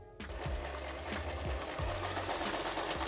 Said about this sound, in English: you can sew up a pillow with your sewing machine if you so desire